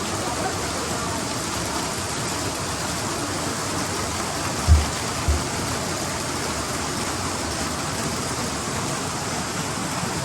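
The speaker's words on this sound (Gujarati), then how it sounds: "જોરદાર વરસાદ પડ્યો નહીં?" Heavy rain falls outside as a steady, dense broadband hiss throughout, with two brief low thumps midway and no talk.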